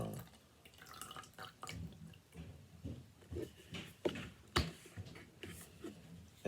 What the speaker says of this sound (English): you just want to wet your brush.